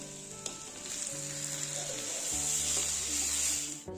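Onions and tomatoes sauté in a pan with a continuous bright hissing sizzle, steady and fairly quiet throughout, with a few faint scraping touches and a tonal hum underneath.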